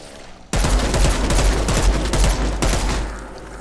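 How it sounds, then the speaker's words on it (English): Burst-fire gun shooting in a zombie video game: a loud, dense stream of rapid shots cuts in sharply and rattles on continuously for about three seconds before easing off. "Burst fire."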